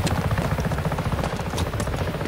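A helicopter in the video game Just Cause 3 gives a steady, loud rotor chop with low throbbing beats that run without a break.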